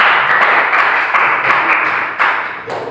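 Classroom applause during a micro-teaching lesson, a few seconds of close, steady clapping from a small group that thins out toward the end.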